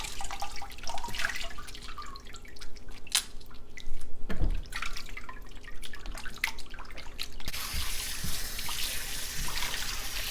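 Tap water running while shrimps are rinsed in a kitchen sink, with splashing, dripping and trickling close by, uneven and moderately loud, ending in a steadier rush of water.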